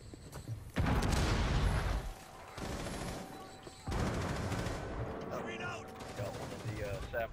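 Gunfire in the Terrorist Hunt mode of a tactical shooter video game: a few loud bursts of shots break out in close succession, with quieter clatter and scattered game sounds between them.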